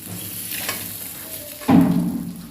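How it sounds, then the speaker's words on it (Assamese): Pork fries in its own rendered fat with no added oil. A low background hiss gives way to a loud, close sizzle as the meat is stirred and scraped in the pot, and no one speaks. "সেই তেলটোৰ পৰা আপুনি গাহৰিটো ফ্ৰাই কৰিব"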